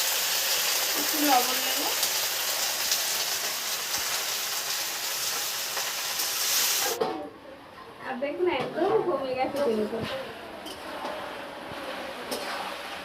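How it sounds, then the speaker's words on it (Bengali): Crab sizzling loudly in a hot wok, a dense steady hiss that cuts off abruptly partway, after which someone talks over faint cooking noise. "এটা এবার ভালো করে ভেজে নেবো"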